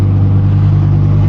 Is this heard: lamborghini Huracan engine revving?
yes